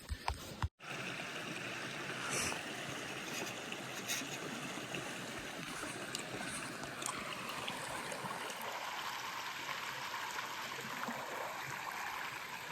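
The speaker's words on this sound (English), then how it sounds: "That's the Methow River" Methow River rushing steadily nearby as a broad, continuous wash of water, with a sharp knock near the start and a gentle shift in texture later on.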